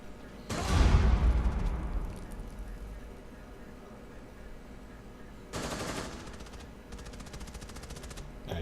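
Bursts of automatic gunfire in a Rainbow Six Siege firefight: a loud heavy volley with a booming tail, then a second rapid burst and a longer stretch of sustained fire a few seconds later, fairly close.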